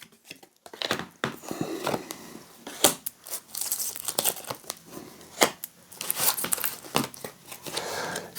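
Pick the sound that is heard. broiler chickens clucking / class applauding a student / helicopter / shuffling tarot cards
shuffling tarot cards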